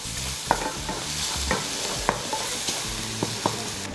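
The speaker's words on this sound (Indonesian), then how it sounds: "Ini pertama kita akan bikin si bawang putihnya kering dulu." Garlic frying crisp in hot oil for a kangkung dish, a steady close sizzle with the dull knocks and scrapes of stirring in the pan, no talking.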